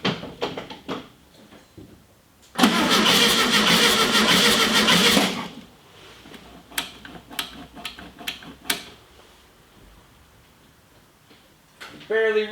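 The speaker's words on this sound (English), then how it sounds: "then we'll fire this engine up and see how it sounds." An old, cheap Volkswagen Beetle engine cranks and catches, a loud burst of starter churning and rough firing lasting a few seconds, then scattered clicks and taps with brief talk around it.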